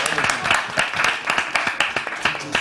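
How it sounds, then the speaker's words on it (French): A studio audience on a French television show applauds with rhythmic, fairly loud clapping that keeps a steady pulse, with some voices faintly mixed in. "On va applaudir."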